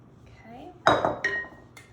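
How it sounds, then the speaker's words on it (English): A cheesecake pan filled to the top with layered Twix cheesecake batter is shaken on a kitchen counter, giving a few short metallic clinks and rattles in quick bursts, close and moderately loud. "you just want to shake that down a bit to make sure you get out all those air bubbles."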